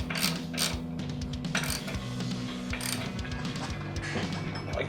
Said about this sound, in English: the best way to make sure the axle is centered is to go ahead and snug this up